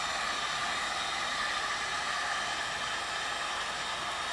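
A Fernco rubber pipe fitting is heated so it can be stretched, with a constant, loud blowing roar running unbroken from start to finish.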